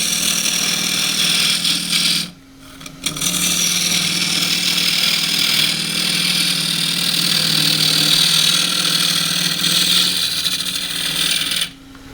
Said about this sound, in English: It's really with a 1/2 inch spindle gouge, and just to see how it's going to cut again.